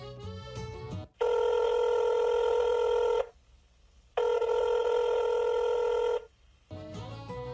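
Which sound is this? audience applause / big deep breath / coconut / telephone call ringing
telephone call ringing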